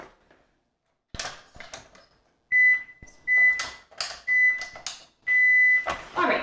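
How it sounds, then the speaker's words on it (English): An electronic interval timer for a lower-body strength workout beeps in a series of sustained, loud tones separated by short gaps, with clatter and movement noises between them. "I'm gonna get our timer going."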